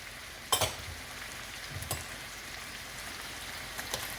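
Carrots tipped into cabbage frying in a pan for Jamaican-style fry cabbage with chicken, a faint steady sizzle broken by a sharp clatter near the start and a few soft stirring knocks.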